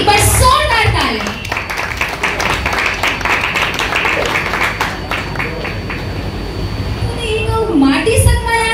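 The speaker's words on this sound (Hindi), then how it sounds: "एक बार जोरदार तालियां।" Crowd at a Chhattisgarhi film launch ceremony claps loudly in a dense, sustained burst, with voices briefly audible at the start and end.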